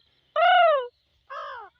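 Two harsh caws, a louder one and then a softer one, come up close from a parrot imitating a crow, with silence around them.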